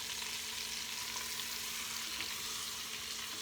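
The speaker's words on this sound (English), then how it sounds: "I will be back once this is browned." Meat browns in an Instant Pot with a soft, continuous sizzle and a faint steady hum, fairly quiet and without voices.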